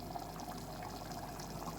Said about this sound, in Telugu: ఇంకొంచెం వాటర్ వేసేసి మూత పెట్టేసుకుంటే ఇక దగ్గరగా ఉడికిపోతుంది